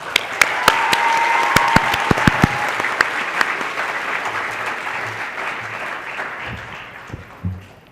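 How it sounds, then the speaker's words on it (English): A graduation ceremony audience bursts into loud applause with sharp individual claps up front, the clapping thinning and fading toward the end as a few low voices emerge. "massive round of applause"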